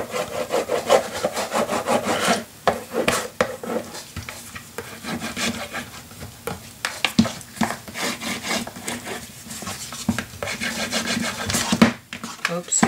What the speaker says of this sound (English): let's burnish the edges.